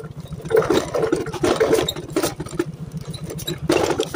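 Dry crackling and rustling in bushes on a wild hillside near an old grave site, coming in irregular bursts of snapping and scraping over a steady low rumble, with no talk.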